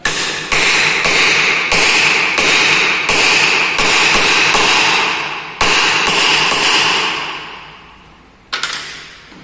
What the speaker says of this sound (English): Then you have to hammer it also.